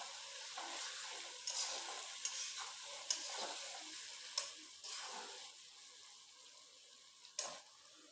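Goat meat curry with tomato frying in a pan, a continuous sizzle broken by repeated spatula scrapes and taps, close up and with no voices.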